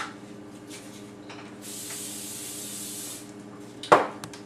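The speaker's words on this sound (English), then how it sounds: "we're going to pour some butter flavored non-stick cooking spray in there" A short hiss of butter-flavored non-stick cooking spray into a pot, quiet and steady for about two seconds, followed by a brief clank of metal in a kitchen.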